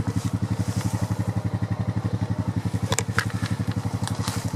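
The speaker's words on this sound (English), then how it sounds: "I'm just gonna leave the four-wheeler running." A four-wheeler ATV engine idles close by with a fast, even, throbbing putter that holds steady throughout, joined near the end by a few light clicks and crackles.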